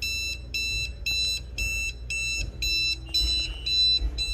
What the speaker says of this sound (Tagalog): So yun, nag-alarm na siya.